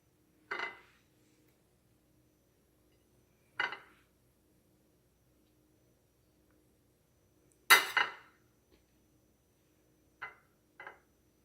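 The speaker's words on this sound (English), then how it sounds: "Yeah, we just need to cut 4 pieces off." A knife slices a peanut butter fluff cake into pieces, heard as five short, separate crisp cutting and clinking strokes spaced a few seconds apart against a quiet background.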